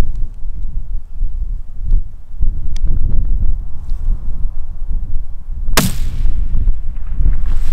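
A single rifle shot at a mule deer during a Montana hunt cracks out sharp and loud near the end, above steady wind noise buffeting the microphone.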